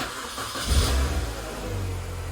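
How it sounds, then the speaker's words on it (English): A Mini Cooper engine with a faulty electric power steering pump turns over briefly and catches, settling into a low, steady idle close by. "So I'm just gonna start the car"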